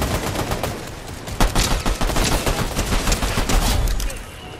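Rapid automatic gunfire from a video game shootout, dense overlapping bursts of shots sounding loud and close for several seconds.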